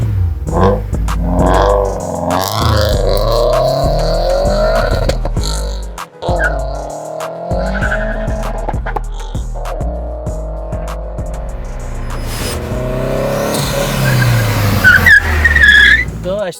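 A turbocharged 40-plus-year-old BMW E30 accelerates hard, its engine note rising through gears with bursts of tire squeal and skidding, loud and close, while people talk over it throughout.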